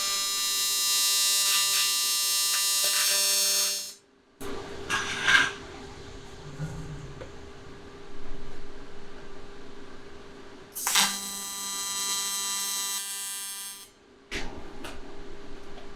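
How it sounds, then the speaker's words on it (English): Welder tacking and welding a 1/4-inch thick aluminum jon boat hull, heard as two loud, steady buzzing runs of several seconds each with quieter clanks and shuffling between them, close and with no one talking. "So I'm gonna fire up the welder, tack this side, tack that side,"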